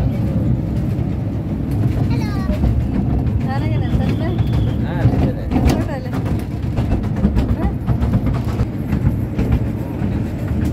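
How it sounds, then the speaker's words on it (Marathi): A small amusement park train runs through a garden, its loud steady rumble and rattling wheels continuous throughout, with people chattering nearby and scattered higher squeaks and whistling tones over the noise. "आता ट्रेनमध्ये बसलो आणि मस्त वाटायला ट्रेनमध्ये पण."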